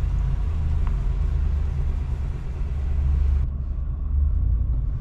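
A RAM 2500 Power Wagon truck grinds up an off-road hill in two-wheel drive with the locker engaged, a steady low engine rumble close by that eases slightly near the end, no talk over it.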